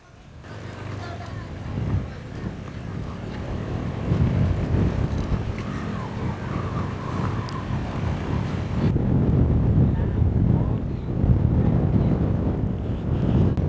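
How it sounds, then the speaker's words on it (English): Strong wind at a dam view deck buffets the microphone in a continuous roar that swells and gusts throughout, with people talking faintly underneath. "Wow. The wind is strong"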